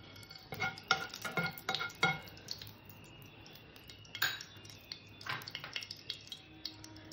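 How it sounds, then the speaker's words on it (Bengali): A spoon scrapes and clinks against a pan in quick repeated strokes over a soft, low sizzle of semolina frying in ghee. "সুজিটা দিয়ে আমি ঘন ঘন নাড়া দিয়ে ভেজে নেব"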